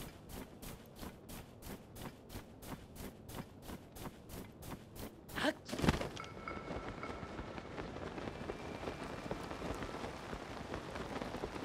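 Rain falling in Zelda: Tears of the Kingdom, a steady broadband patter that picks up after a brief louder burst midway and continues evenly to the end, with no voices.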